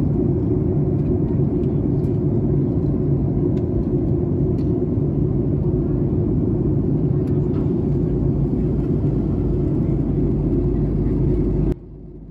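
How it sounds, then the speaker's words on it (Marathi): Cabin rumble of an airliner on approach and landing at Amsterdam, a loud, steady low engine and air roar that fills the space nearly unchanged, then drops abruptly at the end. "आता आपण ॲम्स्टरडॅमला लँड करणार आहोत, बघू असं लँडिंग कसं होतं ते."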